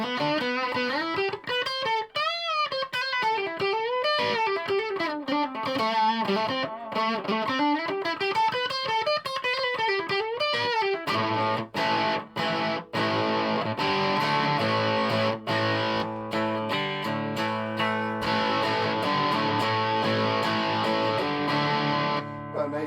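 An electric guitar runs through a Washburn Stack in a Box distortion pedal built to mimic a Marshall stack, playing a sliding melodic line and then thick, crunchy chords, loud and continuous.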